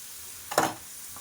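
A batch of homemade French fries drops into hot oil, giving one short burst of bubbling sizzle that fades quickly into quiet.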